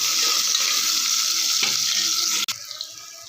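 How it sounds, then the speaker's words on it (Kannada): Chopped onions frying in a pan for palak pulao, giving a continuous bright hiss that drops off abruptly near the end and then continues more quietly. "ಇವಾಗ ಕಟ್ ಮಾಡಿಕೊಂಡಿರುವ ಈರುಳ್ಳಿ ಹಾಕ್ಕೊಳ್ಳೋಣ. ಈರುಳ್ಳಿ ಕಲರ್ ಚೇಂಜ್ ಆಗುವವರೆಗೆ ಹುರ್ಕೊಳ್ಳೋಣ."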